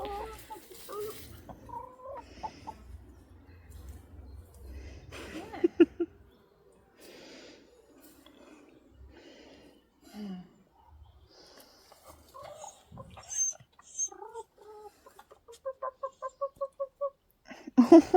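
Backyard chickens clucking in short bursts, with a quick run of repeated clucks near the end, mixed with rustling and some background movement at close range.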